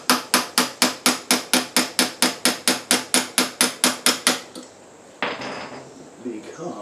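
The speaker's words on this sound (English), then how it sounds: "you don't want to be whacking too hard on your crank." Light hammer taps on the crank of a 1974 Suzuki TC 125 motorcycle during a rebuild, about fifteen sharp metallic strikes in a steady quick rhythm, close and clear, then a quieter rustle.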